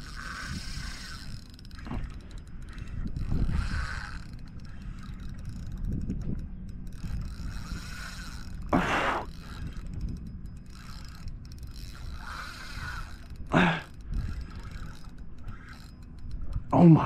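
A fishing reel ratchets and clicks in uneven bursts while a big sheepshead is reeled in, the sound fairly quiet and close with occasional knocks and splashes.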